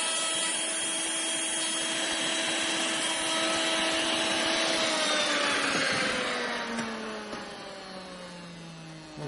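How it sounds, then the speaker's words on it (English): A handheld wood router cuts a slot into a clamped wooden workpiece, giving a loud, steady high-pitched whine that holds for several seconds and then drops in pitch and fades slightly toward the end. "What the cutter will do is just cut us a nice slot to fit in there."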